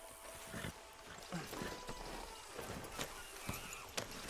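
Horse hooves clip-clop in Red Dead Redemption 2, a few uneven footfalls in an outdoor game scene with light background noise and no talk over them.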